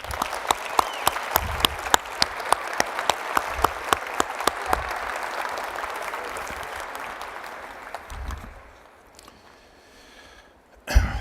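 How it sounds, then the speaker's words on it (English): Audience applause at an evening military advocacy awards event, a brief round honouring military spouses: steady dense clapping with some sharp individual claps for about eight seconds, then fading to scattered claps and room noise. "So I'd like to take just a moment to acknowledge them with a brief round of applause."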